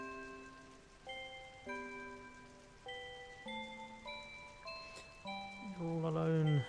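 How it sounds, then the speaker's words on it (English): Steady rain falls in Final Fantasy VIII, a constant soft hiss under a slow, stepping synth melody with sustained tones that swells louder toward the end. "the rain."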